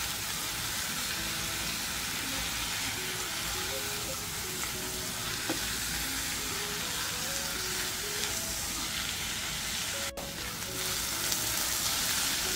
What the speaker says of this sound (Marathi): डाळी छान परतून घेतल्या।